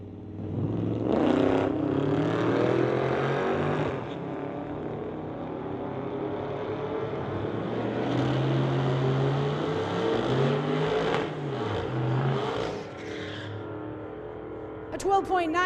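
Drag racing cars, a Chrysler and a Chevrolet, launching and roaring down a street-legal drag strip, engines revving hard with rising and falling pitch as they pass, loud throughout, with a brief burst of noise at the end.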